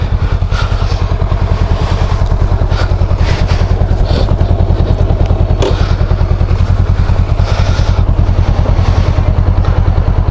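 A matte black Honda Rebel 500 motorcycle on a test ride hums with a loud, steady engine drone and a rapid regular pulse close to the microphone, with wind rush layered on top.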